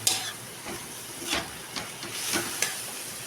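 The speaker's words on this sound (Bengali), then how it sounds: "এইটা এখন আঁচটা লো করে ভালো করে ভাজা ভাজা করতে হবে" Soybean chunks with spices fry in a pan over low heat, a soft continuous sizzle broken by several scraping stirs at irregular moments, close and fairly quiet.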